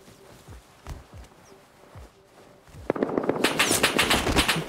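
AK rifle fire in the survival video game Rust, a few scattered sharp shots at first, then a loud, rapid automatic burst of gunfire that carries on through the final second and a half.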